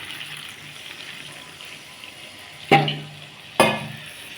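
Water poured into hot, sizzling oil while cooking a vegetarian Bengali-style potato curry (alur dum) with new potatoes: a steady low sizzle broken by two sharp, loud hissing bursts near the end.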